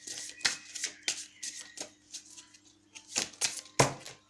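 Tarot cards are shuffled and drawn close by in short, crisp bursts of riffling and snapping card edges, alone and fairly quiet.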